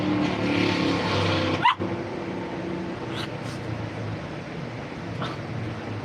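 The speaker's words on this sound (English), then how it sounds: "you know how to rev an engine" A car engine revs with a strong humming tone for under two seconds, then stops abruptly. A broad, noisy hiss carries on afterwards, with a couple of faint clicks.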